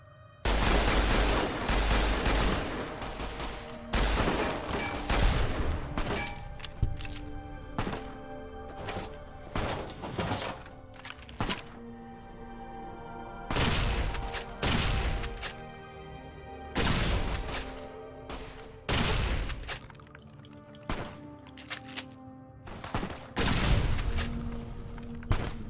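A machine gun fires in Fallout: New Vegas, Honest Hearts, during combat: loud, near bursts of rapid shots come in irregular clusters with short pauses over the whole stretch, with no speech.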